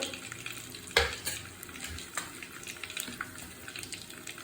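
Mustard seeds dropped into hot oil in a pan for prawn curry, with a soft steady sizzle broken by one sharp clatter near the start and scattered faint crackles and pops afterward.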